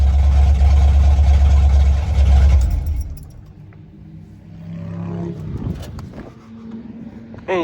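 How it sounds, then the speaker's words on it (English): Engine fitted with a Holley 4-barrel carburetor, running rich, roars loudly, then drops to a rough idle with irregular exhaust pops and sputters, with a person speaking briefly. "I hear some popping from the exhaust."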